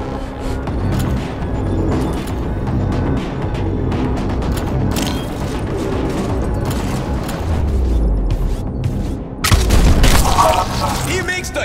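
Video-game gunfire and booming impacts in Showgunners, loud rapid shots and blasts layered over game music, rising into a heavier burst near the end.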